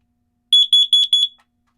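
Shrill, high-pitched beeps from an RV smoke alarm being tested, four rapid chirps in quick succession, close and clear with silence around them.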